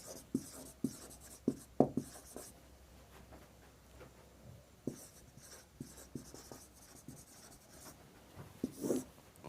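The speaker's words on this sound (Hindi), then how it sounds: "तो एडिशन फार्मूला लिखते हैं पहले, उसके बाद समझिएगा।" Pen or pencil scratching on paper while a trigonometry addition formula is written out by hand, a close, quiet run of short strokes and taps that comes in irregular bursts with brief pauses between them.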